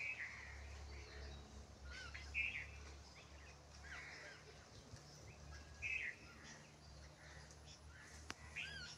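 Birds chirp faintly and intermittently in short repeated calls, spaced a couple of seconds apart over a low, steady outdoor hum, with quiet distant background noise.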